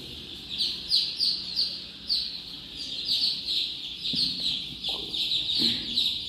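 A flock of around 200 young colour chicks on a poultry farm peep continuously in rapid, overlapping high chirps, close and busy throughout, with a few faint low thumps beneath.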